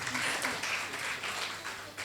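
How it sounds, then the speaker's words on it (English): Audience applause at a foundation event, a brief stretch of steady clapping from a gathered crowd, moderately quiet and fading slightly toward the end. "Let's clap for that"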